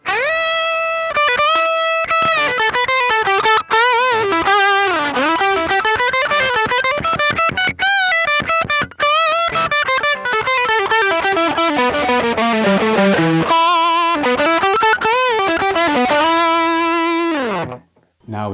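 A 2008 Gibson Explorer electric guitar with its 500T bridge pickup plays through overdrive, loud and sustained, with chords and single-note runs moving up and down and ringing nearly nonstop with brief gaps before fading at the end.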